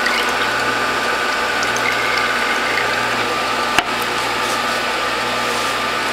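A manual press squeezing citrus and ginger gives a steady mechanical grinding and creaking strain, close and continuous, with one sharp click near the end of the squeeze.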